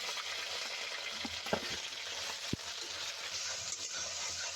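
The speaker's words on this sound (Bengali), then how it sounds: "এবার দিয়ে দিলাম রসুন, আদা আর পেঁয়াজ।" Garlic, ginger and onion frying in hot oil with bay leaves and whole spices for a homemade chicken stew, a close, constant crackling sizzle with a couple of sharp utensil knocks against the pan.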